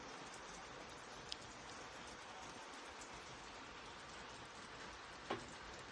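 Rain falling steadily outdoors on an autumn day in Ukraine, a faint even hiss with occasional soft drop ticks and no one speaking.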